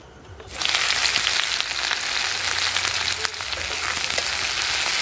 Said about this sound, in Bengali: এখানে আমি একটা বড় সাইজের পেঁয়াজ কুচি কুচি করে কেটে নিয়েছি, এবার গরম তেলের মধ্যে দিয়ে দেব